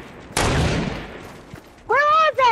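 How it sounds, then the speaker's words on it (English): A sharp burst of gunfire in the Fortnite video game cracks out loudly, then fades over about a second before a voice briefly speaks. "Oh, Remy, you're getting shot."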